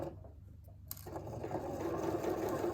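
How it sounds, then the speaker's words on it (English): A home sewing machine stitches a button-down shirt yoke through to the end of the fabric, starting after a brief quiet moment and then running as a steady, close mechanical whir. "And now I'm going to sew to the end of the fabric"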